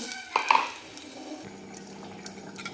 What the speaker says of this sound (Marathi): आता डाळ घोटून घेऊ